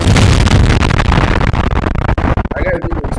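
An explosion sound effect dropped into a talk podcast: a loud, rumbling blast with crackling debris that thins out over about three seconds.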